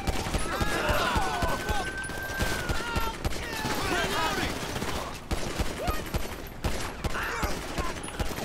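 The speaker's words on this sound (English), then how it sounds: "Multiple shots fired, multiple shots fired" Rapid gunfire in the GTA V police mod LSPDFR: dense bursts of automatic and repeated shots crackling continuously at close range, with a voice talking over parts of the firing and whistling ricochet-like tones.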